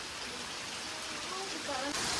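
Steady rain pours down in a hissing, even wash that fills the whole stretch, with faint voices surfacing briefly near the end.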